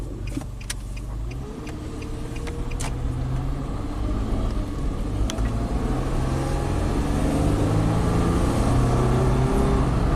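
A neglected Nissan truck running richer on bank 2 while being driven, with a steady low engine drone and road rumble rising gradually in loudness, plus a few faint ticks and clicks early on.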